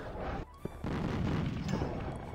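Cannon firing cannonballs in a video game, a heavy low boom that rumbles on, preceded by a brief sharp pop and a short lull.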